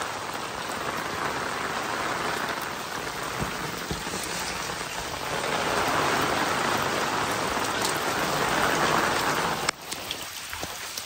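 Heavy rain pours onto a house in the Konkan countryside, a dense, unbroken roar of drops that swells slightly louder partway through before a sudden brief drop near the end; no voices are heard.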